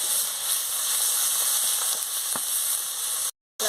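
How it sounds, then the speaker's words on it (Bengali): Spice paste of garlic and turmeric with chili powder fries with onions in a pan, a loud, continuous sizzle and hiss close by that breaks off briefly near the end. "লঙ্কার গুঁড়ো একসঙ্গে দিয়ে আমি ভালো করে মশলাটাকে কষিয়ে নিচ্ছি"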